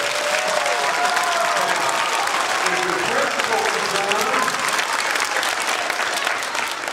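Audience applauding elementary school prize winners at a governor's grand prize presentation: dense, steady clapping that fills the whole stretch, with voices faintly mixed in.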